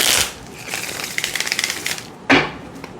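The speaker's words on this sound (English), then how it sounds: "I'm going to reshuffle" Tarot cards being reshuffled by hand, giving a run of soft, rapid riffling flutters and light card taps up close, with a sharp riffle burst near the end and no talking.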